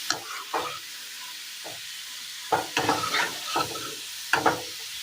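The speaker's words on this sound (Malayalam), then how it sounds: "വെളുത്തുള്ളി ഒന്ന് മൂത്ത് വന്നിട്ടുണ്ട്, കോരി മാറ്റാം." Garlic frying in hot oil for a Kerala drumstick pickle, a soft steady sizzle under repeated bursts of a spoon scraping and stirring in the pan, close and clear.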